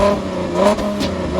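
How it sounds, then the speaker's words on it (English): A 2011 Chevrolet Camaro RS engine revs up close, its loud, rough growl rising briefly and then settling back. "these are pretty much some revs right here of this Camaro RS"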